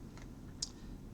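A single faint mouse click on a link, one short sharp tick over quiet background hum, with a softer click shortly before it.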